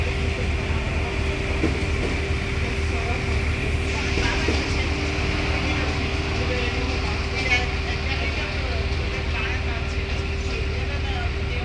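An empty train stands idle at a station in Denmark, giving off a steady low mechanical hum with a constant tone, plus faint background rumble throughout.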